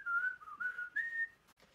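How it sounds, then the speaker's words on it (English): A single person whistles a short song tune alone, clear and close, with the pitch stepping up and down over a couple of phrases. "they can try to whistle it"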